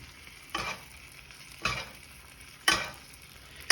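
Ribeye steak pan-searing in browned butter with garlic, a constant sizzle punctuated by four rhythmic bursts of spattering as hot butter is spooned over the meat.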